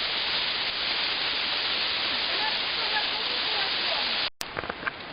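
Steady, loud roar of the Yalynskyi waterfall crashing nearby, continuous white-noise rush that cuts off abruptly near the end, followed by faint brief sounds.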